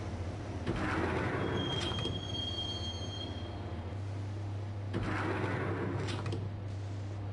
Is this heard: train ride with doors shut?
yes